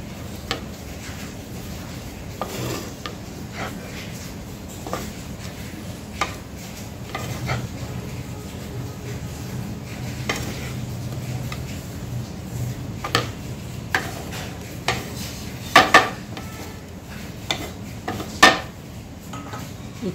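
Cooled vegetable momo filling is mixed with fresh coriander in a bowl, a spoon knocking and scraping against the sides in irregular clinks, close and clear, no talk.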